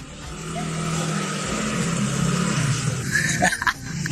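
Car engine revving in a video game, a steady, near motor drone that builds slightly, with brief sharper bursts toward the end and no clear speech.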